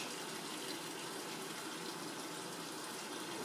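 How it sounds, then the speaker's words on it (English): A Magic Chef portable washer, 1.6 cubic feet, filling with cold water for a small load of clothes, a steady, loud, unbroken rushing gush close by with no pauses or voices. "Washing a small load of clothes."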